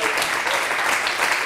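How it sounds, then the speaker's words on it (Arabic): An audience at a quiz show breaks into applause, a dense, even wash of many hands clapping throughout at steady loudness. "تصفيق"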